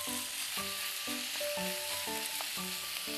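Korean fish cakes stir-fry in a hot pan with a sauce-like base, giving a steady close sizzle throughout under soft rhythmic background music.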